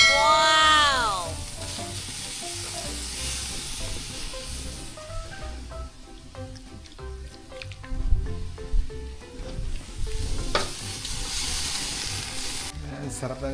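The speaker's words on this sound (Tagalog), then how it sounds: "Saan ko lulutuin ng barbecue dito at yung chicken." Barbecue skewers and chicken sizzle on a hot smoky grill, a steady frying hiss with popping crackles and clattering as pieces are turned, with brief talk over it.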